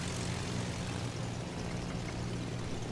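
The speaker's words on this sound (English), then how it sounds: "now I'm in the bomber" Dive bomber aircraft engine in World of Warships Legends, a continuous dense propeller drone, loud and unbroken for the whole stretch.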